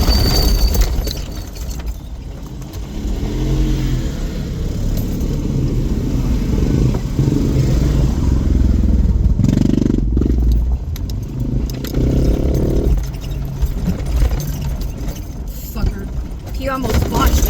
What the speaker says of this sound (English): Oh, these fucking dirt bikes.